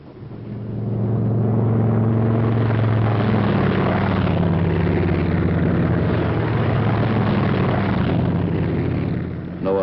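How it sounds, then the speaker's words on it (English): World War II P-47 Thunderbolt squadron aircraft taking off, a loud droning radial engine roar that swells in and holds steady with a deep throbbing hum, fading slightly at the end. "6-6 is taking off."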